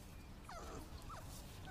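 A dog gives soft, thin whimpers, a couple of rising whines in a quiet room, faint and close.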